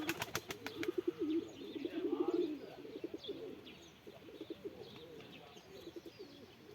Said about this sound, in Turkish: Kuş yükseliyor.